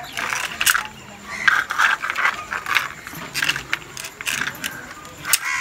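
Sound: key pulled, toy vehicle starts running

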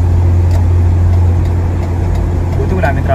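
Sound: car driving on the road

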